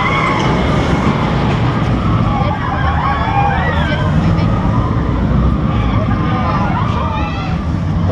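A Vekoma roller coaster at Efteling: a loud, continuous mechanical rumble with rattling and screeching wheels as the train runs on its track, with squealing tones rising and falling.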